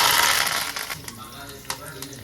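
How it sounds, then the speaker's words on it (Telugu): Mustard seeds, cumin, chana dal, urad dal and curry leaves sizzle and crackle in hot oil, a loud burst fading to lighter popping with a few sharp spits. "నార్మల్గా అందరం తాలింపు పెట్టుకున్నట్టే ఆవాలు జీలకర్ర కొంచెం శనగపప్పు"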